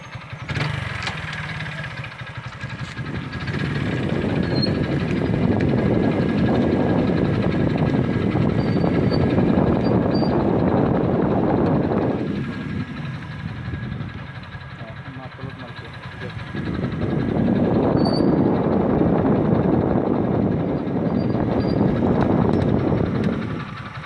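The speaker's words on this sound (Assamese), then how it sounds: "ইয়াৰ চাবি লগালোঁ বাইকত, যাম এতিয়া, গাড়ী ষ্টাৰ্ট দিছোঁ" A motorbike engine runs steadily outside a temple, a broad rumbling drone that swells and fades over time without any distinct starting burst.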